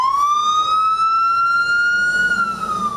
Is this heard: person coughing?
no